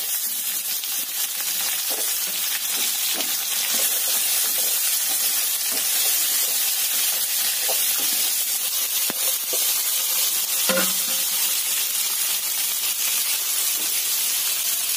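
Tomatoes, brinjal, carrot and drumstick frying in oil for sambar, giving a steady close hiss and sizzle with occasional soft scrapes and clinks of stirring.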